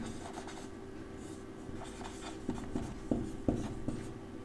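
A pen writes on paper while a small cube is worked out in a math exercise, making soft, close scratching strokes with a few sharper taps near the end.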